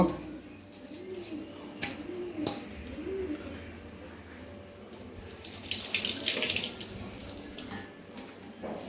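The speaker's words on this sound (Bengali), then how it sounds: "এখন এগুলো ধুয়ে নেওয়া হচ্ছে" Tap water runs steadily into a sink as seasonal fruit is rinsed for a devotional food offering, a continuous close splashing with a brief louder gush near the end and dove-like cooing in the background.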